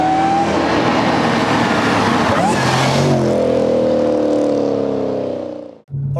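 An Audi B7 RS4 at speed, its engine loud and close with a broadband roar that rises through a fast pass, then settles into a steady drone before cutting off abruptly near the end.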